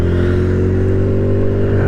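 GY6 150cc scooter engine pulling back into traffic, a loud close steady drone with strong low harmonics, its pitch holding nearly level across two seconds.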